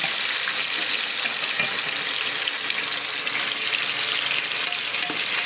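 Tofu frying in a pan of oil, a loud, close, continuous crackling hiss that stays steady from start to finish with no voices.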